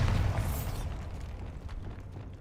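The Bombarda spell in Hogwarts Legacy goes off as one loud, booming explosion, and the blast's rumble slowly fades.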